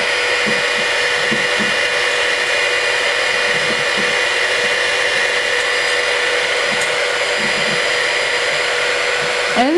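Inexpensive heat gun blowing hot air onto glitter heat-transfer vinyl, a steady loud whooshing fan drone with faint tapping and handling sounds underneath.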